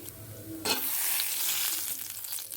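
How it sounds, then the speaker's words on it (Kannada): Spices and curry leaves crackle and sizzle loudly in hot oil for a tempering, a sudden burst of spattering that settles into a steady frying hiss with some stirring. "ಒಗ್ಗರಣೆ"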